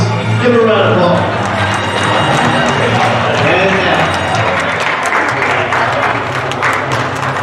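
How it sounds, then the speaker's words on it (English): An indoor gym audience at a youth Upward basketball game applauds for the away team, a dense patter of clapping mixed with cheering and an announcer's voice. "Give them a round of applause."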